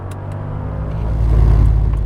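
Mercedes SL55 AMG with its supercharged 5.4 litre engine accelerating, a deep steady rumble that swells louder through the second half, heard close with no talk.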